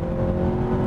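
A Mazda3 hatchback accelerates with a brief, steady engine drone and whir, heard close from inside the car.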